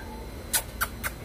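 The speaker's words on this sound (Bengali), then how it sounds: "এই বিড়াল দুইটা দেখছেন ঝগড়া করতেছে" Two cats fighting let out three short, sharp, high-pitched squealing cries in quick succession over quiet background noise.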